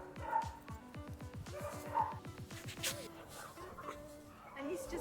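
Dogs at an animal shelter bark and yip in quick repeated bursts, fairly close, with voices and background noise mixed in.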